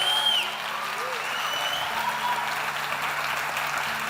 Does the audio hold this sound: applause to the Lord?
yes